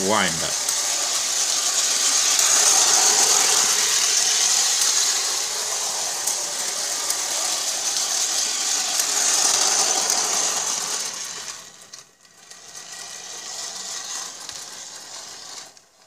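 A tin plate model of a Melbourne W-class tram, fitted with O gauge wheels, runs with a steady, close mechanical whirr and rattle for about eleven seconds, then drops away and resumes more softly.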